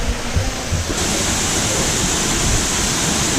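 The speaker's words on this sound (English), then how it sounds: "Waterfall." A waterfall at Tamanique in El Salvador sends a steady, close roar of rushing water that fills the air, with a few faint low thuds early on and no voices.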